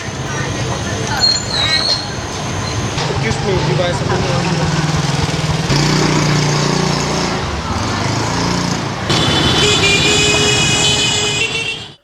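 Street traffic of small motorbikes in Hanoi's old town, a continuous busy engine drone with passing buzzes and a horn, close and loud, with talk mixed in.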